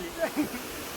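A steady rush of flowing water fills the moment, with brief voice sounds rising over it.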